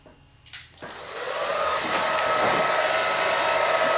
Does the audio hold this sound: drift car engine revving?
no